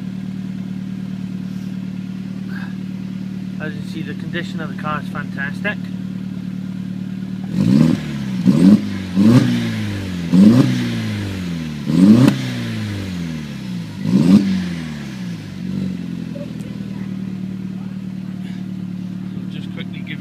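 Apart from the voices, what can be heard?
2002 SEAT Leon Cupra 20V turbo engine revving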